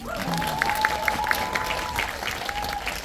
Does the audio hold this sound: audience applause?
yes